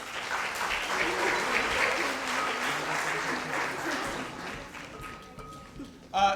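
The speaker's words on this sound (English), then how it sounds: "please give them a round of applause for earning this." An audience at a junior high spring band concert applauds steadily for several seconds, a full, even wash of clapping that tapers off near the end.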